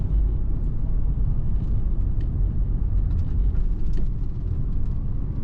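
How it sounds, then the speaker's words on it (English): The heater blower motor of a 1996 Pontiac Firebird runs at a steady speed, making a loud, continuous low whooshing rumble close by inside the cabin, with no talk over it. "Our blower motor is working."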